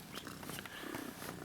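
A cat purrs close by in a low continuous rumble, with faint rustling in the background.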